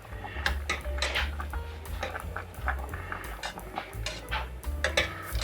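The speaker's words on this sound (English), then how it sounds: "So you just want to stir it around a little bit." A spoon stirs pasta in a cooking pot, giving close, irregular clinks and scrapes of utensil against metal, with steady ticking knocks throughout.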